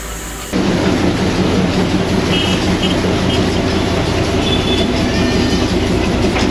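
A diesel train on the Darjeeling railway rumbles loudly past up close, a continuous roar with rhythmic wheel clatter and faint squeals, starting abruptly and holding steady.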